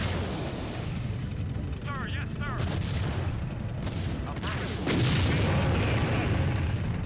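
Missile explosions in Empire Earth: a dense run of booming blasts and crackling gunfire-like bursts over a continuous rumble, getting louder near the end.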